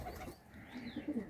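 A Kolkata high-flying Madrasi pigeon gives a short, soft, low cooing close by, a brief murmur over faint background noise.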